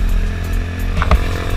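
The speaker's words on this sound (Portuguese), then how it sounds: "Faz muito barulho, mano. Esse escapamento aqui é top, rapaziada. GP competição." A Honda Titan 150 motorcycle fitted with a GP Competition exhaust runs close by, giving a loud, steady engine drone that swells briefly near the end with no talking over it.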